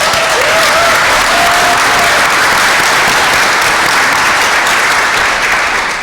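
Steady, loud applause from a graduation ceremony audience at a community learning center, sustained clapping filling the hall without a break for about six seconds.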